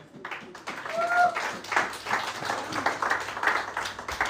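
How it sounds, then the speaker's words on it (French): A church congregation claps during a sermon, producing scattered, moderately loud rhythmic clapping mixed with voices. "Applaudissez Jésus."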